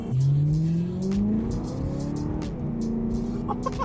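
A BMW E9x M3 engine revs hard nearby, its pitch sweeping up through a loud rising wail, then settling into a steady high drone with brief crackles, no speech over it.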